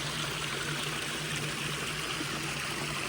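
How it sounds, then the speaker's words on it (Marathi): A steady, close babble of clear stream water runs between bamboo- and forest-lined banks on a farm, unbroken and without talk throughout. "पाण्याचा खळखळाट"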